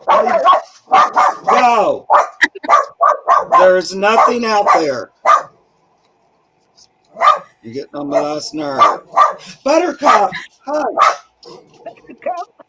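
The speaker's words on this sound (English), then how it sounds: "She's barking at the cat like she's never seen it before" A dog named Buttercup barks at a cat indoors, giving short sharp barks that are mixed into and partly masked by steady conversation from nearby people.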